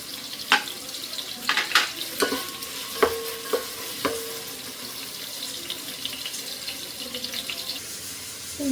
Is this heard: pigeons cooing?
no